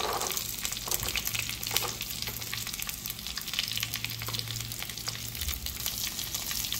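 Onion and garlic sautéing with vegetables in a pan for a Tirunelveli sodhi kuzhambu, a steady close sizzle with broadband hiss running throughout and a low hum underneath, no voices.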